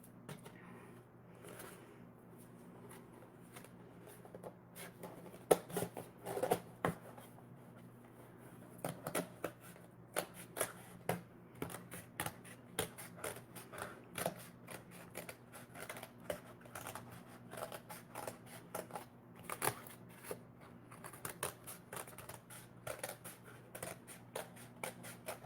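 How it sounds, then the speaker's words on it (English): Scissors snipping through a paper plate to cut out its middle for a sun catcher craft, a long run of quiet, close, irregular clicks and crunches over a faint steady hum. "Okay, so I cut out the middle of my paper plate."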